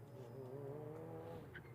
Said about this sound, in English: Makes a great noise as well, does that car. It runs on a motorbike engine.